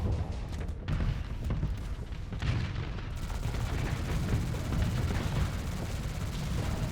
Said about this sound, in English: That's it. Fire the main cannon.